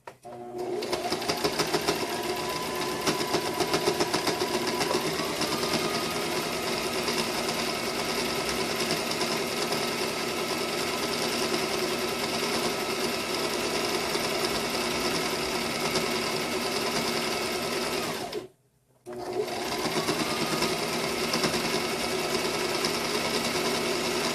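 Steady, loud motor hum of a sewing machine top stitching around a homemade lanyard, running continuously for a long stretch, cutting out for a moment near the end and then resuming.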